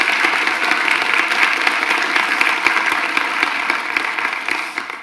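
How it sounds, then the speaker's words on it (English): Warm audience applause at a talk on disagreeing well online, dense even clapping held steady at full level and easing slightly near the end. "let's have a big warm round of applause"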